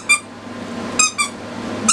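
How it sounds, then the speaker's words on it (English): Squeaky dog toy with a rope attached giving three or four short, sharp, high squeaks spaced irregularly, close and clear over a quiet background. "So it's a squeaky toy, and then it's got a little rope."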